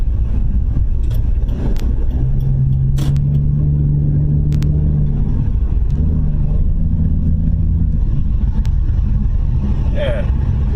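A car passes very close on a Houston, Texas road, nearly sideswiping the vehicle, heard as a loud steady road rumble with engine drone and someone shouting over it.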